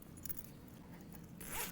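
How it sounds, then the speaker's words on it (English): A zipper pull being fitted onto the zipper of a sewn crossbody bag gives a close, rapid zipping rasp that swells louder near the end. "You're going to attach your zipper pull"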